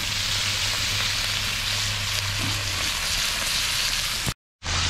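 Spicy Danos-seasoned sausage and potatoes fry in a pan at a solo truck campsite, a steady close broadband sizzle with a low hum underneath, continuous until a brief dropout near the end.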